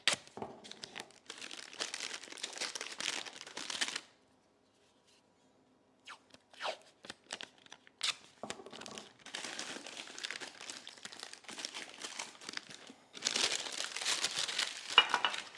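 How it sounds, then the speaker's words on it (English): Blue tape being pulled, torn and pressed down over parchment paper edges, heard as bursts of close crinkling and tearing separated by quiet pauses. "The reason for the blue tape is so you can tape the edges of the parchment paper down."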